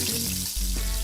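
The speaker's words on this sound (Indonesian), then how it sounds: "Pertama, kita goreng dulu nih empek-empek lenjer yang udah dipotong-potong." Sliced pempek lenjer fish cakes fry in oil, giving a brief, dense, close sizzle with bubbling thumps underneath.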